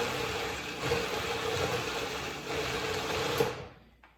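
A food processor on its lowest setting whirs steadily as it blends a red pepper and walnut muhammarah dip, a continuous mid-level motor hum that cuts off at the end.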